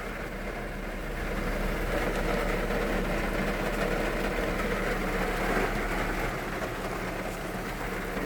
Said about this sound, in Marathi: हे बघा तुम्ही पण बघा पाऊस का जोरात चालू आहे.